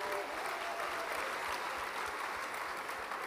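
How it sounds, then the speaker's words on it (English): Even, continuous audience applause from a large crowd at an Afrima event, sustained clapping at moderate volume with no voices over it. "I think we should give them a big round of applause."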